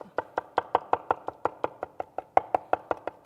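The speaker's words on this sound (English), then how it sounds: "I'm just gonna take my knife and I'm just gonna mince it up" A knife minces pulled pork on a cutting board in about eighteen sharp, evenly spaced chops. The rhythm is quick and close, with no talking.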